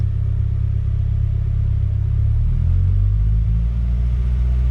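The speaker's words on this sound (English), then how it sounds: "Give it a tiny little bit of RPMs." A Ford Duratec engine idles at a steady low rumble, then the revs lift slightly for a moment and settle, heard up close and alone.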